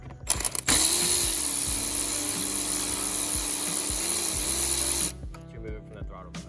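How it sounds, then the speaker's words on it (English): Steady whirring mechanical drone with gear-like rhythmic pulses, fairly loud and close, while a 7 mm bolt is loosened on the intake of a 2019 Mustang GT; it stops abruptly, leaving faint clicks. "Loosen up the 7 millimeter."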